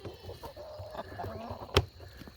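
A small backyard flock of laying hens clucks and murmurs close by in a steady, irregular chatter, broken by one sharp knock near the end.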